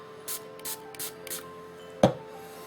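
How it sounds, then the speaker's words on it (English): Four quick hissing bursts of e.l.f. liquid brush cleaner sprayed onto a big puffy makeup brush, followed by a short knock or clack, close up in a quiet room. "so I'm going to spray it a few more times"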